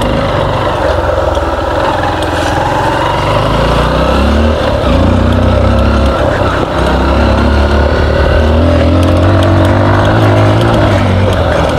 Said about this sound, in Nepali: यहाँबाट आउँदो रहेछ नि बाइकहरू